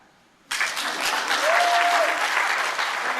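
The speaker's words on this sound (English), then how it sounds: "So you can clap for that." A conference audience bursts into applause after a quiet half-second, keeping up dense, steady clapping from a fairly large crowd until the end.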